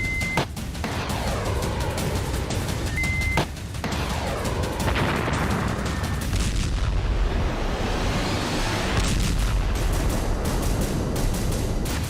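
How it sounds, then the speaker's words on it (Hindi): Loud, continuous rumbling blasts and booming explosions with sharp cracks as tanks are blown up, a dense barrage of heavy detonations with no speech. "देखिए कैसे रूस के अत्याधुनिक टैंकों को विस्फोट से उड़ाया जाता है"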